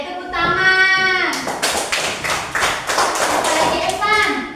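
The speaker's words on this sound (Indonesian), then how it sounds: "Oke, tepuk tangan." A voice speaks briefly in Indonesian during a math lesson, then a group of small hands claps rhythmically for a few seconds before another short voice.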